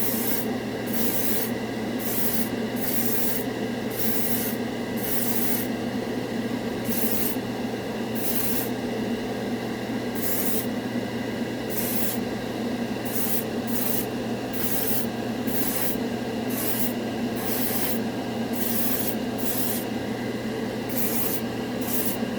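An airbrush sprays Turbo Dork color-shifting paint in a steady close hiss of short repeated bursts with brief gaps, running throughout with no talk.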